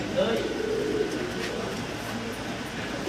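Spanish pigeons cooing softly in a loft, low murmuring coos under steady background noise and nearby talk.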